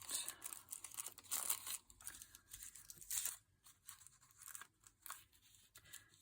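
Magazine image paper being folded and handled for a craft cabinet card, soft crinkling and crumpling in uneven bursts, quiet and close, with no talking.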